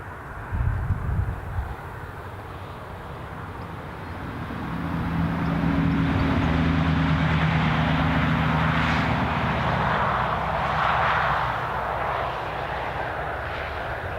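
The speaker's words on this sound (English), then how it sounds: "that is a Dublin incomer, and that will be a Cessna 560 XL Citation XLS" Cessna 560XL Citation XLS business jet arriving at Newcastle International Airport, its engine roar swelling to a steady loud rush in the middle and then slowly fading, heard alone.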